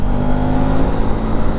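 A KTM 390 Adventure motorcycle engine in fifth gear at about 5,500 RPM and 85 speed, a loud, steady high-revving buzz with a strong harmonic whine and wind rush, close and continuous.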